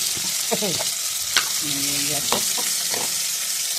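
Chopped tomato sizzles in hot oil in a pan for veg biryani, a loud steady frying hiss with intermittent scrapes and clinks of a spoon stirring, a few faint voice fragments in between.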